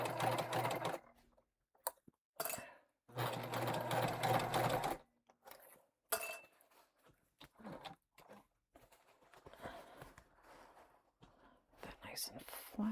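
A sewing machine stitches a tote in several bursts of rapid, steady whirring separated by pauses, with soft talking and handling noises between runs.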